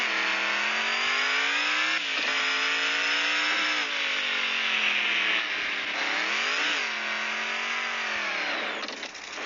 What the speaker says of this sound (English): the Russian 6x6 is my only vehicle that can do all-wheel burnout in high